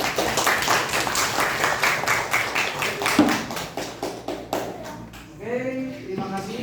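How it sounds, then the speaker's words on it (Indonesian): Schoolchildren in an Indonesian classroom clap together after a lesson, a dense patter of many hands close by for about five seconds before thinning out, with a few voices rising at the end. "Beri tepuk tangan."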